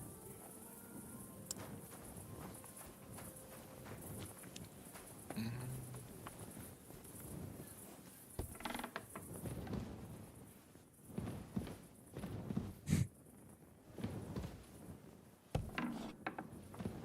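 Horse hooves clip-clopping at a walk in Kingdom Come Deliverance 2, irregular wooden knocks and steps of moderate loudness over a low ambient bed, with a few sharper clatters toward the end.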